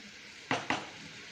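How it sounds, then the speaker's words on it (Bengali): A spoon scrapes twice in quick succession through spice masala in a pan for chicken kosha, faint and close over a low steady background hiss, with no talking. "আগে একটু নাড়িয়ে নাড়িয়ে মিশিয়ে নিচ্ছি।"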